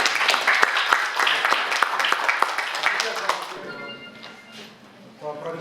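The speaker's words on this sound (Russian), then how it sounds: "Давайте похлопаем еще." A festival audience claps in a dense burst of applause for about three seconds, which then thins out and dies away, leaving a few scattered claps.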